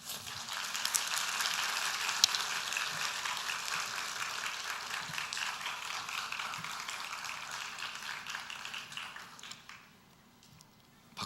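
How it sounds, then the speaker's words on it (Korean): A church congregation at a women's mission service applauds at length, a soft, steady patter of many hands heard from a distance that carries on for about ten seconds before fading away. "박수를 상당히 길게 쳐주셨습니다."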